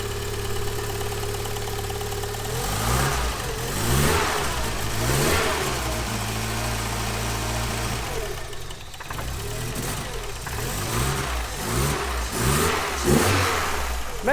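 A tuned 3.0 car engine revving hard on a dyno, loud and close, with repeated climbing rev sweeps, a brief dip near the middle, then renewed aggressive pulls.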